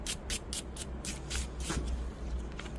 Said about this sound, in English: I'm going to just take this brass brush and just kind of knock off some of the oxidation